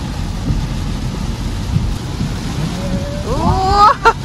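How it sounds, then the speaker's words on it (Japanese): Heavy rain pours onto a car during a long drive, making a dense, constant wash of noise. A voice speaks near the end. "豪雨です"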